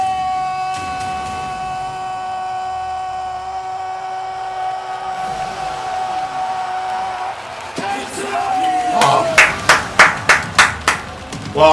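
An electronic hum and tones give way to rising crowd noise, then a burst of clapping and cheering swells toward the end, at a StarCraft ASL final.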